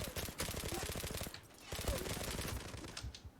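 Rapid automatic gunfire from the online shooter game Zula rattles in two long bursts with a short pause between, loud and close, under no talk.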